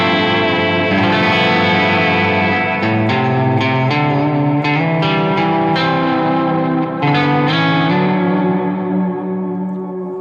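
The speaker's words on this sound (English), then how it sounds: "So you can even make more of a wave with the delay and the reverb and this thing shaking" Electric guitar played through tremolo, delay and reverb, sustained chords pulsing in a steady wavering throb with echoing repeats trailing behind each note, loud and alone with no talk.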